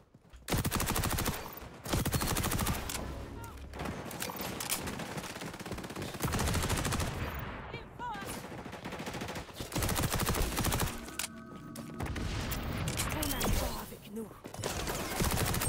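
Gunfire in the shooter game XDefiant, dense bursts of rapid automatic shots and heavy reports running almost without a break, loud and close, with a voice talking faintly beneath.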